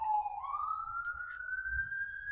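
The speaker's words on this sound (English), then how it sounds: "ignore the sirens outside" A police siren wails faintly in the distance outdoors, one slowly rising tone drifting through a quiet room with low background rumble.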